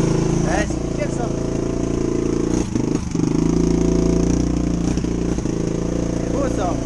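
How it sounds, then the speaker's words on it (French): A brand-new 2021 125cc Gunshot motorcycle idles steadily after its first kick-start, a continuous close engine drone warming up while people talk over it. "On va la faire tourner un petit peu. On va la faire chauffer."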